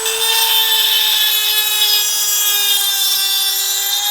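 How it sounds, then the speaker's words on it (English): An angle grinder cutting into a metal Lambo door bracket on a Nissan 240SX S14, a loud steady high-pitched whine held close and constant with no talk. "you have to grind this whole fucking top thing to actually give it more space"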